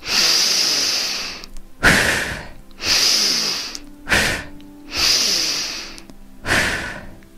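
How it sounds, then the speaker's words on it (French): Deep, deliberate breaths during a guided sophrology relaxation session: three long hissing inhalations alternating with sharp, forceful exhalations in a slow, steady rhythm, close and clear with no talking. "J'inspire"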